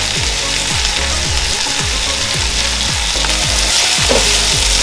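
Sliced onions with salt fry in a pan, giving a loud, continuous sizzle close up. A regular rhythmic thumping runs under it, roughly twice a second.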